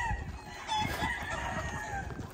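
Fighting roosters crowing amid a busy outdoor background, several drawn-out overlapping calls rising and falling over steady low rumble and bustle.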